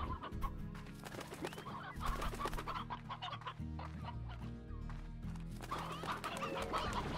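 Chickens cluck repeatedly in the farm game Slime Rancher, busy fowl chatter layered over steady background music that runs throughout.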